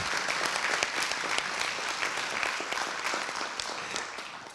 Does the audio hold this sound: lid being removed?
no